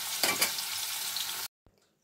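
Ridge gourd pieces drop into potatoes frying in a pan for a nigella-spiced Bengali gourd and potato curry, setting off a loud, steady hiss that stops abruptly, followed by a single faint knock.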